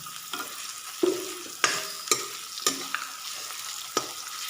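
Tomatoes frying over a medium flame in a pan are stirred, giving a steady close sizzle broken by several sharp scraping clacks of the spoon against the pan at irregular intervals.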